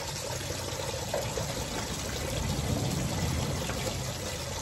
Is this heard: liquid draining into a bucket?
yes